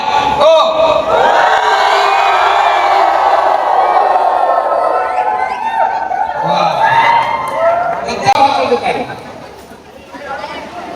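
A garba class crowd in Surat cheers, whoops and shouts together loudly and continuously, a dense wall of excited voices with chatter and bursts of yelling throughout.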